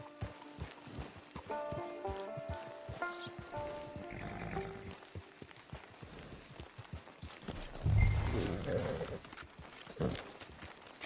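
In Red Dead Redemption 2, a horse's hooves clip-clop in a quick steady rhythm, moderately close, among game music tones and ambient rustle, with a louder thump and snort-like burst near the end.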